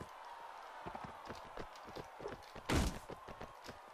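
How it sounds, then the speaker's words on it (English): Horse hooves clip-clop in a rapid, rhythmic gallop during a tournament duel in the video game Mount & Blade: Warband, steady repeated thuds at moderate volume with a louder heavy impact near the end. "they gave me a horse."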